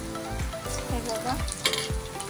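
Bottle gourd fritters fry in hot oil in a pan, a steady close sizzle with periodic low thumps and scrapes as they are turned and lifted out.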